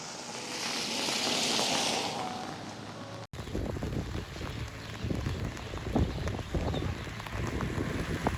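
Heavy rainstorm on Donghu Road, with a dense roar of rain and gusting wind buffeting the microphone, then closer patters and drips on nearby surfaces continuing steadily throughout.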